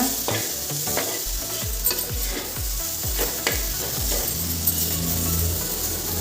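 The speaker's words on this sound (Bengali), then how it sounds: "তেলটা পুরো গরম হয়ে গেছিলো, আলুটা দিয়ে দিয়েছিলাম। দেখো আলুটা সুন্দর ভাজা ভাজা হয়ে গেছে।" Potatoes fry in fully heated oil with a constant close sizzle, broken by a run of regular scraping stirs of a spatula in the pan, loud and steady with no talking.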